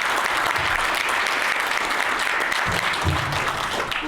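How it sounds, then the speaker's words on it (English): Audience at a women's community event applauds steadily for about four seconds, a dense, even wash of clapping hands with no speech over it. "let's round of applause"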